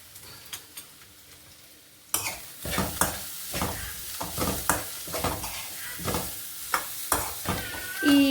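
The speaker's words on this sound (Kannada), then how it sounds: "ಈ ಮಿಕ್ಕಿರೋ ಎಣ್ಣೆಯಲ್ಲಿ ಬೆಳ್ಳುಳ್ಳಿ ಹಾಕ್ಕೊಂಡು ಚೆನ್ನಾಗಿ ಬ್ರೌನ್ ಆಗೋ ಥರ, ಬ್ರೌನ್ ಆಗೋವರೆಗೂ, ಗೋಲ್ಡನ್ ಬ್ರೌನ್ ಆಗಬೇಕು, ಕ್ರಿಸ್ಪಿಯಾಗಿ ಆಗೋವರೆಗೂ ಹುರ್ಕೋಬೇಕು." Garlic fries in leftover oil until golden and crisp; after a couple of quiet seconds with faint clicks, a steady sizzle starts, punctuated by frequent sharp stirring scrapes and clinks of a utensil against the pan.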